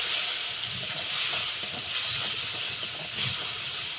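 A paste of onion, garlic, chilli and powdered cumin spices fries in a pan, giving a steady, loud hiss that runs throughout without a break or voice.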